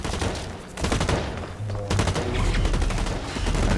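Rapid automatic gunfire from the Blacklight video game, dense bursts of loud shots running almost continuously with only brief gaps.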